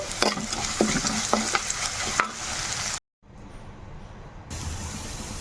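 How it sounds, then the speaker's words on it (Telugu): Homemade rasam powder frying with browned onions in a pan, a soft continuous sizzle with scraping spatula strokes, a short cut to silence midway, and no talking. "ఇప్పుడు మనం తయారు చేసుకున్న రసం పొడి వేసుకొని 2 నిమిషాలు అలాగా వేగనిద్దామండి"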